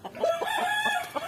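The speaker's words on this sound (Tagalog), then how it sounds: "Dami ng manok." Chickens and a rooster on a farm in Batangas, with short clucks and crowing-like calls rising and falling close by over a steady background, no talking.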